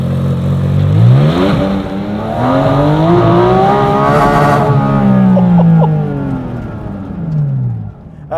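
A used Honda Fit accelerates hard in reverse during a performance test, its engine and drivetrain whine rising and falling in pitch through several surges before easing off near the end, loud and close.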